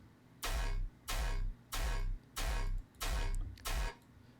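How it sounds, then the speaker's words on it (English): Six heavily distorted gunshot blasts fire in a steady rhythm, each a loud, crunchy burst with booming low end, evenly spaced. "it's basically just a very distorted gun."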